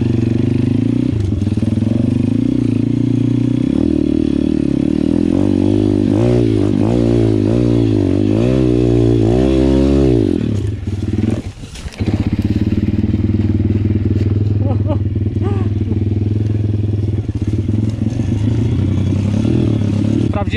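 A small motorcycle engine with an oversized rear sprocket revs up and down loudly and close by, with a brief cut-out before it settles back to a rough idle.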